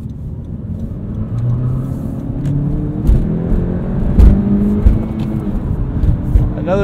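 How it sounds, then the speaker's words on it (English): A 2017 Honda Civic Hatchback Sport engine with six-speed manual drones steadily with rising and falling pitch as it revs through gears, the revs lingering between shifts, with a voice faintly in the background. "there's quite a bit of rev hang with this engine"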